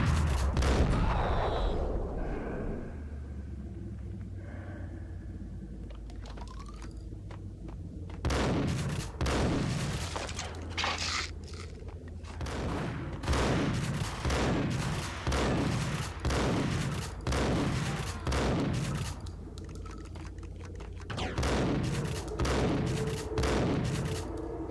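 Shotgun blasts from the video game Max Payne boom in repeated loud, reverberant bursts, sparse at first and then coming in rapid clusters over a low background rumble, with no one speaking.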